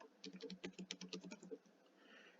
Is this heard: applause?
no